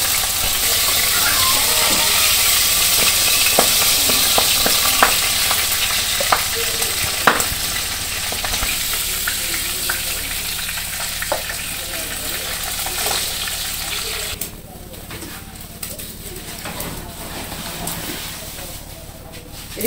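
Pabda fish fry in oil on a village-style stove, a steady loud sizzle that drops noticeably quieter partway through, with occasional clinks and faint background voices.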